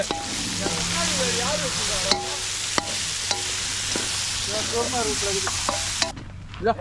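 Brinjal pieces frying and being stirred in a pan while fish curry is cooked outdoors at a petanque ground, a steady sizzle with scraping stirs and clinks, faint voices in the background.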